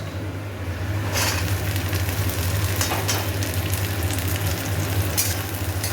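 Green beans sizzle and fry steadily in a pan for vegetable fried rice, a continuous close crackle with a low hum beneath and brief louder bursts as the beans go in.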